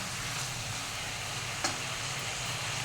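Brinjal and fish curry (vonkaya with fish) simmering in a pan gives a steady, close hiss of sizzling with one brief clink partway through, no voices.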